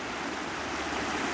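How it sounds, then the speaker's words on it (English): A river rushes in a steady, broadband roar outdoors, loud and unbroken with no pauses or talk. "So I hope you can hear me over the sound of the river here."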